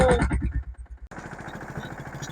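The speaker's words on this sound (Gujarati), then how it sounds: "આજે આપણે ટ્રેક્ટર રાખ્યું છે." A tractor engine runs with a steady low, rhythmic chug, close and fairly loud, after a brief burst of higher tonal sound at the start.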